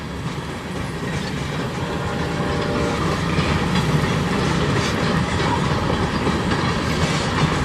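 Freight wagons of a CSX tanker train keep rolling through Sarnia in a snowstorm, a continuous loud rumble with rhythmic wheel clatter, faint squeals and a faint horn note.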